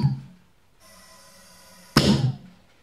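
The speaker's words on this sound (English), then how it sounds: "it makes a pretty loud noise just with this attachment." A Nerf blaster fitted with an attachment fires once with a sharp, loud burst and brief rattling tail, preceded by a steady whirring hum, close by with no talking.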